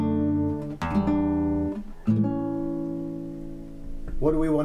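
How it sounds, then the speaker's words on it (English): Sustained musical chords ring out one after another, showing a harmonic resolution, with clear changes between each held chord, loud and close with no talking. "If I do it with chords, it sounds something like this."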